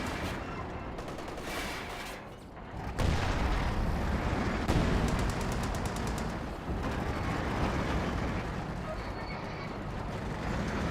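Company of Heroes 2 battle with dense, continuous gunfire and heavy artillery blasts, loud rumbling explosions and rattling small-arms fire running throughout without a break.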